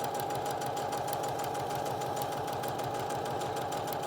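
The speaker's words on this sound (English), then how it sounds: "We're straight stitching, back stitch, and again, I'm using a 1/4 inch foot with a guide." A sewing machine straight-stitches a fabric medical mask with a 1/4 inch foot and guide, giving a steady fast mechanical whir and rapid needle clatter that runs continuously, fairly quiet and alone.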